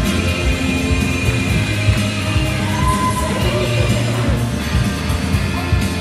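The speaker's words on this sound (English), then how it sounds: "A big cheer for the orange one!" Crowd cheering and yelling fills a robot combat arena as a Featherweight robot, the orange one, is introduced at Robots of Destruction in Dublin, a steady roar of voices with whoops and occasional bangs throughout.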